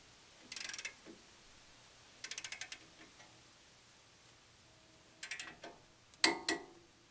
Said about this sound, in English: Now torque the caliper bolts to 90 foot-pounds.